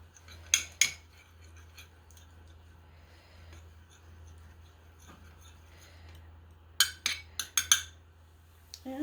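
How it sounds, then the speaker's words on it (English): A spoon stirs granola ingredients in a bowl, giving a quick pair of bright clinks, then quiet, then a faster cluster of scraping clinks near the end, close and fairly soft. "Stir this up."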